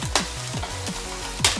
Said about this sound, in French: je vais venir casser mon chocolat dans la casserole que j'ai mis à feu moyen pour pas cramer le chocolat